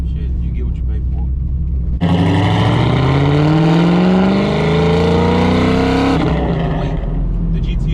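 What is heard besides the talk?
supercharged 700+ HP Pontiac GTO engine revving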